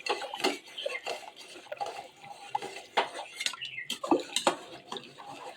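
A spatula stirs rice for pulao in a cooking pan, giving irregular metallic scrapes and clinks with brief quiet gaps, close and moderately loud.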